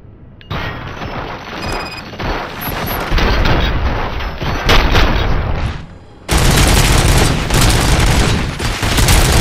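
Heavy gunfire in the RoboCop: Rogue City video game, bursts of shots and booming impacts overlapping into a dense barrage, briefly dropping before a louder, sustained volley of rapid fire.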